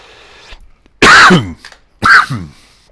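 Two loud, sharp coughs about a second apart, close to the mic, with a quiet pause between them.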